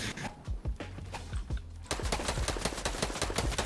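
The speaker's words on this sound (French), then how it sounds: "je vais le sniper" Gunfire in a first-person shooter video game, a series of sharp rapid reports in two bursts, the second denser and louder, close and clear with no talk over it.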